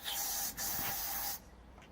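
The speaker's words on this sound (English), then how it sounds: "I'm spraying that in there is they're quite oily engines and they like oil." Aerosol oil being sprayed into a Seagull outboard engine, a close, steady hiss lasting about a second and a half with a brief break near the start, then cutting off.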